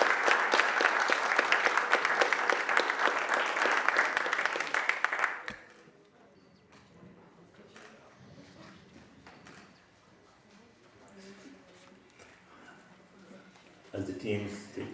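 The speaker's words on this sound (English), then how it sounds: "A round of applause to both wonderful teams." An audience at an inter-school debate gives both teams a sustained round of applause, dense and loud for about five seconds before fading into quieter room murmur and talk, with a brief clatter near the end.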